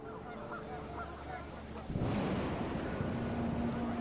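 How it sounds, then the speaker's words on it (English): Panicked geese honk in the game What Remains of Edith Finch, a dense, loud burst of overlapping calls that breaks in halfway through over a steady wind-like background. "The wind picked up, and panicked geese appeared and quickly went"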